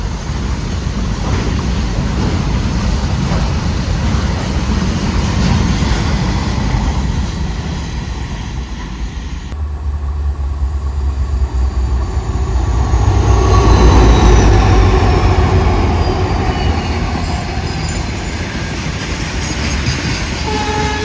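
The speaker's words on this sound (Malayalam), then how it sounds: "ഇപ്പോൾ ഇലക്ട്രിക് വെച്ചൊരു ഗുഡ്സ് ട്രെയിൻ വരുന്നത്. ഗോണ്ട ഷെഡിൻ്റെ ഒരു WAG7 ആണ് ലോക്കോ കേട്ടോ. ഒരു BCN ഗുഡ്സ് ട്രെയിനാണ്." Goods train of BCN covered wagons hauled by an electric WAG7 locomotive of Gonda shed rumbling past at Suravali, Goa: a steady, loud roar of rolling wagons with clattering wheels that swells and shifts midway as the train continues by.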